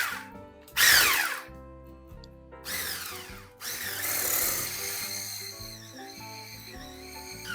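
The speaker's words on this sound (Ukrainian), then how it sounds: "беремо наше масло в мисочку і міксером збиваємо" An electric hand mixer beats butter in a bowl for a bird's milk dessert, a whirring motor that surges in short bursts and then runs steadily, with shifting pitch as the beaters work.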